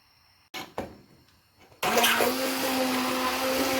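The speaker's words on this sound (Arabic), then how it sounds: "فاش تكونوا كطحنوا فيها واستعملتوا بحال هذا الباطور هذا" An immersion blender purees a potato and vegetable soup with chicken, whirring in with a loud steady motor drone after a few quiet clatters and knocks, holding a constant pitch to the end.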